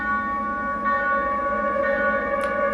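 Bells ring within a song. Sustained, resonant chimes sit inside a dense, fairly quiet music mix and continue steadily throughout.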